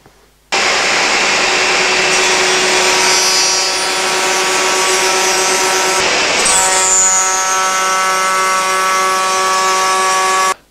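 Router table cutting a channel along wooden drawer fronts to take hardwood edging: a loud, steady high-pitched whine with a cutting roar, running continuously for about ten seconds with a brief dip in pitch midway.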